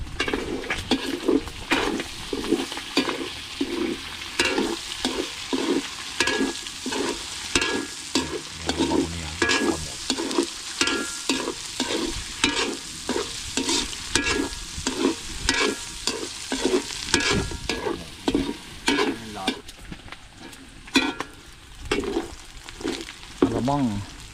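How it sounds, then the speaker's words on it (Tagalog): Chopped onion and garlic sizzle in a pan while being stirred and scraped in a quick, regular rhythm for a bitter gourd dish, the frying loud and continuous throughout. "binagsak na po ang sibuyas at bawang"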